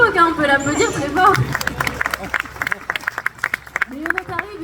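An audience at a sea lion show claps, a burst of dense, irregular applause building after a voice and continuing for several seconds, with crowd murmur underneath.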